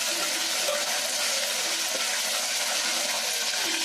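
Homemade stone-ground ginger paste fries in hot oil in a pan, a loud, close, continuous sizzle with bubbling and watery crackle, steady from start to finish with no voices.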